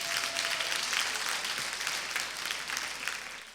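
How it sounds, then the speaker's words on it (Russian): Concert audience applauding in a hall for a performer's sponsor, a steady dense wash of many hands clapping close and loud throughout, with no voices on top. "Аквафон, ваши аплодисменты."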